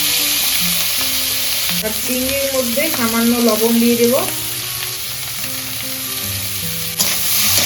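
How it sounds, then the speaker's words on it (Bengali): Prawns sizzle and fry in hot oil in a wok for fried rice, a steady loud crackle throughout with someone speaking over it partway through. "এবার আমি কড়াইয়ে তেল দিয়ে দিয়েছি, আর এবার চিংড়িটাও ছেড়ে দেবো।"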